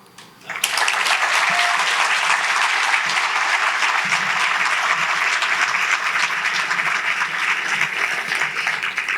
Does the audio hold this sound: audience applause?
yes